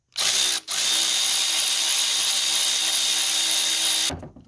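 A 14mm bolt under the alternator of a Hyundai/Kia 1.6 GDi G4FD engine is loosened with a power tool, giving a loud, close, steady whir that stops briefly early on and then runs unbroken for about three seconds before ending.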